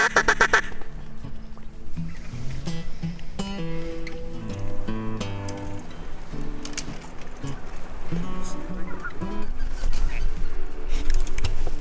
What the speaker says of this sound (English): Y'all see those ducks?